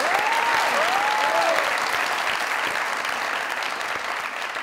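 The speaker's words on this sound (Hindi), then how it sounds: "जोरदार ताली" A studio audience at a comedy talk show breaks into loud, dense applause that carries on steadily, with a brief whistle-like tone rising over the clapping near the start.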